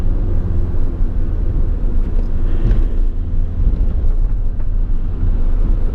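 Engine of a new Ford Transit Custom van drones loudly from inside the cabin as it accelerates on the road, a low, rumbling roar with wind noise and no voices.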